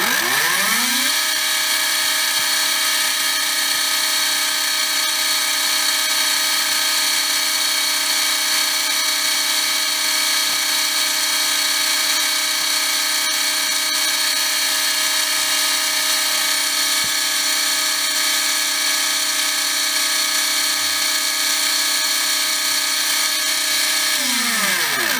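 A Trinity Double Down 17.5 Outlaw brushless motor spins on a test stand, winding up quickly to a steady high-pitched electric whine that holds for about twenty seconds before spinning down, loud and close.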